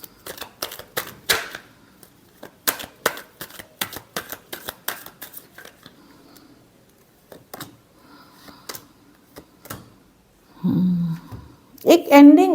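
Tarot cards shuffled by hand in a series of quick crisp riffling snaps, close and dry, that thin out toward the end before a voice speaks briefly.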